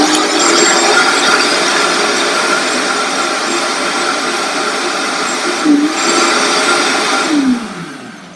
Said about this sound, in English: just throw everything into a blender